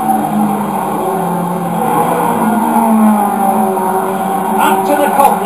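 A steady engine drone comes from 1980s British Touring Car Championship cars racing around a circuit, holding a constant mid-distance roar throughout.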